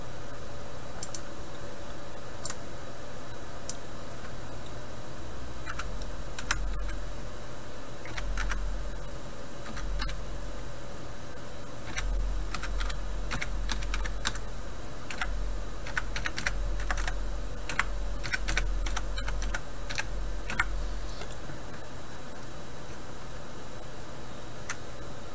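Steady typing on a computer keyboard while entering a server address during a MySQL and MMO kit setup, with quick irregular key clicks over a low background hum, close and moderately quiet, no voices.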